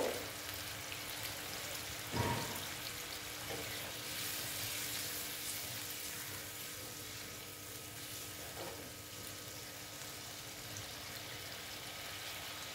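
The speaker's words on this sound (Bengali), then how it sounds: "দেখো প্রায় ফুটেই উঠেছে" Soybean kofta curry gravy simmers in a pan with a steady, close bubbling hiss and an occasional soft pop. No voices.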